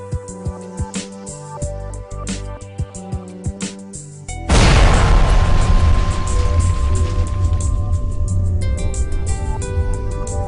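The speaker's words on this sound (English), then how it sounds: "The bottom hole assembly is then moved up hole and the guns are activated." Perforating guns fire downhole in a well at a sudden loud boom that follows a stretch of rhythmic mechanical tapping, then a long rumbling wash fades slowly beneath it.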